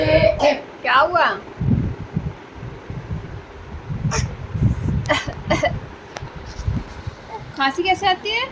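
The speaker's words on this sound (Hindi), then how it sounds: "खांसी कैसे आती है?" Several rough coughs and throat-clearing bursts at home, loud and close, mixed with people talking.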